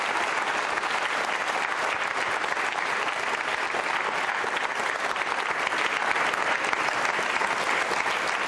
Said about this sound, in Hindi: तालियां जोरों से बजाइए इस संकल्प के लिए आप।